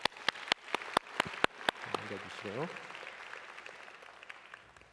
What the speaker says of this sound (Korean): 권면의 박수 드리겠습니다